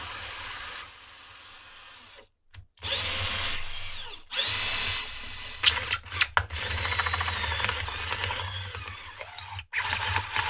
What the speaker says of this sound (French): On va faire 9 petits trous.